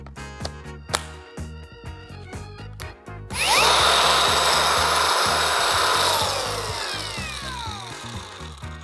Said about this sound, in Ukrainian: Від'єднала акумулятор, болгарка залишилась включена.